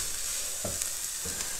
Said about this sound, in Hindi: अब हम इसमें बंद गोभी जो हमने चॉप करके रखी हुई थी वो ऐड करेंगे और उसको भी 2 मिनट जो है ना कुक करेंगे।